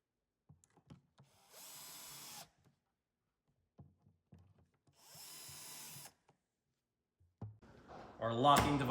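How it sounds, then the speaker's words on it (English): Power drill pre-drilling screw holes in a wooden drawer face, two bursts of about a second each with small knocks and handling clicks between them, ending in louder clattering. "so we can pre-drill those and get those screwed in"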